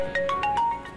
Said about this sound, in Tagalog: Oh, ang cellphone mo nagliring.